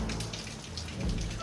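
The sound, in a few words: heavy rain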